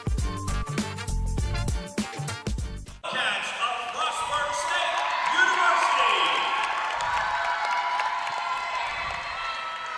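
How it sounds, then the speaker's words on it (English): A raucous crowd cheers and claps at a Frostburg State vs. Glenville State acrobatics and tumbling meet, a loud sustained roar with whoops. It follows a few seconds of rhythmic bouncing thumps. "And our raucous crowd here this afternoon is ready as the Bobcats take the floor"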